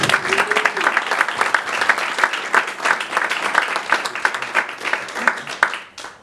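An audience at a Little League history event in Arcadia applauds to welcome a speaker, with dense steady clapping from a sizable crowd throughout that breaks off abruptly at the end.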